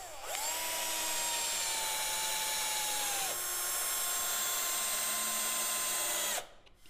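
A power drill pre-drills a thin wooden lath fixed on a beam, a steady high whine running about three seconds, then a second slightly lower run until the bit stops abruptly near the end.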